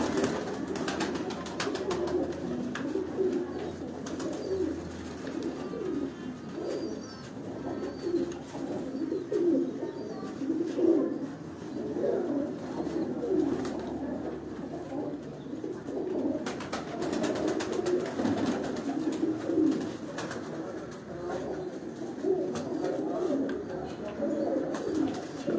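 Pigeons coo steadily on a rooftop in Sialkot, soft overlapping calls with faint background noise.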